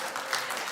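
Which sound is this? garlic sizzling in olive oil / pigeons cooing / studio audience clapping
studio audience clapping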